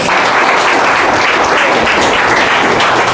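A seminar audience at a business presentation breaks into loud, continuous applause, a thick wash of many hands clapping at an even level throughout.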